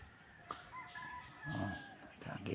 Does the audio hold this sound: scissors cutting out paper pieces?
no